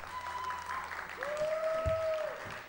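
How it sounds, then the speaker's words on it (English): Audience applause at a live BATERZ show, following a rendition of 'Target's Airconditioner', a steady wash of clapping lasting a few seconds with some tonal ringing and faint voices mixed in. "Clap if you like."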